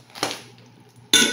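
Metal kitchen vessels from a delivered parcel handled up close: a clanking knock, a fading ring, then a sharper metallic clatter toward the end.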